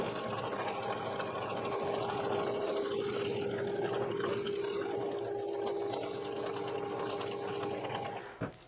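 A sewing machine stitches a fabric Christmas ornament with white thread, running in a steady, fast, continuous whir up close before stopping abruptly near the end.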